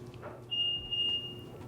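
BMW X5 lock beep: a loud, sharp electronic tone sounding twice in close succession, steady and piercing over faint outdoor background.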